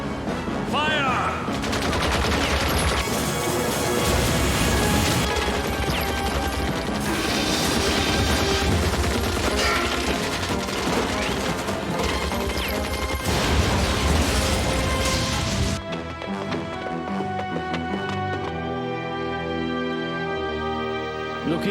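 Gunfire and explosions crash through an animated battle in the Bob Morane film: dense, loud overlapping shots and blasts for about fifteen seconds, then a quieter stretch where the barrage gives way to a more musical sound.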